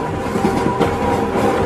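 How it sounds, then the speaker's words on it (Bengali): A speeding train rushes along in a suspense audio drama, a steady loud rumble of rolling wheels and carriage noise throughout, with a faint rhythmic clatter and no voices over it. "হুড়মুড় করে ছুটে যাওয়া ট্রেনটা থেকে থেকে কেমন যেন নিঃশব্দ হয়ে যাচ্ছে।"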